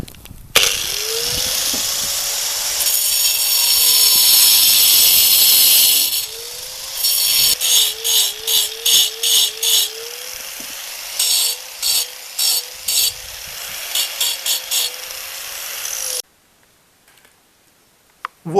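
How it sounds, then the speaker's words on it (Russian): An angle grinder runs at high speed, first in a long continuous whine, then in a series of short on-off bursts before stopping abruptly. "чтобы болгарка работала не на себя, выдувала грязь, пыль, а от себя"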